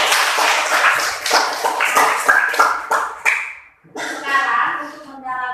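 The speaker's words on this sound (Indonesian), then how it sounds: "Mari kita tepuk tangan karena kalian luar biasa." Classroom students clap together: a burst of sharp, distinct claps in an uneven rhythm, fairly close and loud, tapering off, followed by a voice speaking.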